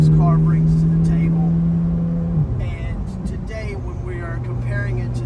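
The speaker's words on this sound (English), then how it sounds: "The sound that this car makes, that is true supercar exotic sounds." A Corvette C8 Z06 with its LT6 engine drones steadily while driving, shifting pitch partway through, under continuous talk from a person in the car.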